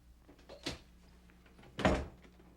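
A door opens with two clear knocking thuds, one near 0.7 s and a louder one near 1.9 s, close by in a quiet room with no talking.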